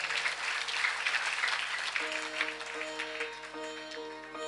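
Light applause from a gathered audience at a spiritual discourse, a soft steady patter of many hands that continues while sustained musical tones rise beneath it partway through.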